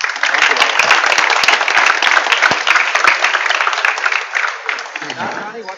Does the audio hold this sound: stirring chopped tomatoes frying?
no